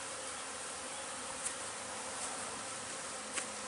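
Honey bees hum faintly and continuously at a beehive, a soft, even buzz with a few slightly closer passes and no voices.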